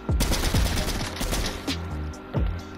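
Gunshots fired in Fortnite, a few loud separate bangs spaced out over a couple of seconds with low booming tails, close and alone.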